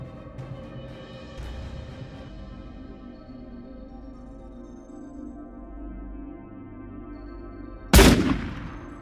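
A single loud gunshot while hunting animals in a forest rings out near the end, with a sharp onset and a decaying tail, following a steady low ambient rumble.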